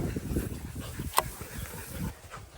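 Dogs on a chase, brought to heel with repeated commands near a skunk, give soft whimpers and panting close by, with one sharp brief yip in the middle.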